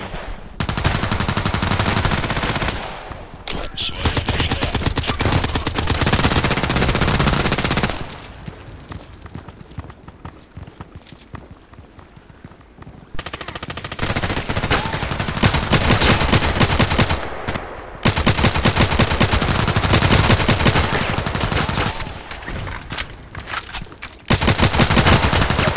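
In the Contract Wars video game, a Saiga fires loud, close bursts of rapid shots in long stretches, broken by quieter gaps, with no talking.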